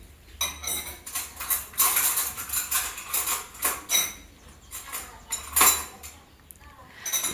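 A spoon and fork clink and rattle against other cutlery and dishes in a home kitchen, a run of irregular bright metallic clatters up close, with faint voices in the background.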